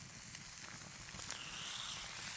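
Shelled scallops with the coral left on, searing on one side on a Vulcanus plancha grill: a soft, steady sizzle and hiss, close and fairly quiet, with no voices.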